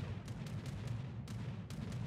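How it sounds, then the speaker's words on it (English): Yamato battleship main-battery salvo in World of Warships during a King of the Sea tournament match, heard as low rumbling booms with a few sharp broadband bursts over a dense, steady naval battle din. "Here comes another Yamato salvo."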